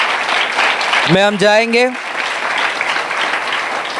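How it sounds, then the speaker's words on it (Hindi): A church congregation clapping loudly, a dense continuous patter of hands filling the whole stretch, with a brief spoken line from a preacher over it. "क्यों ना हम जोरदार ताली बजाएं"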